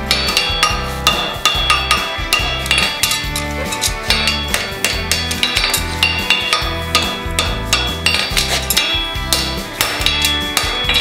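Hot steel bar-shoe horseshoe branch hammered on an anvil, loud ringing metallic strikes in a steady, fast rhythm, repeated blows with bright clangs throughout.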